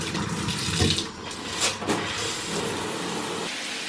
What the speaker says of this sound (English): I'm going to have a nice hot shower and get into some comfy clothes first before I do anything else.